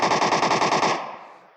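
A burst of automatic gunfire from PUBG on the Sanhok map: about a dozen rapid, evenly spaced shots, loud and close, ending in a trailing echo that fades away.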